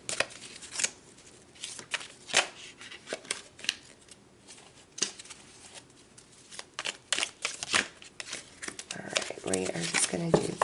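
A tarot card deck is shuffled with soft, irregular riffles and slaps, close and fairly quiet, while a voice talks throughout.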